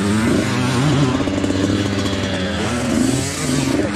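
A 65cc dirt bike engine running loud and close with a steady, buzzy two-stroke drone, idling roughly with slight wavering and no clear revving, alone without talk.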